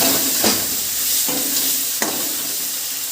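Tomatoes fry in a new kadai over onions with a steady close sizzle, broken by three scraping stirs of a spatula against the pan.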